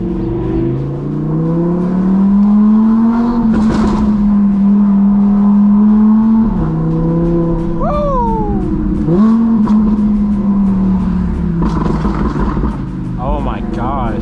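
A modified 1000-horsepower Audi R8 with a loud exhaust drones steadily in standstill traffic, its pitch shifting with a sharp rev swell midway and then settling back.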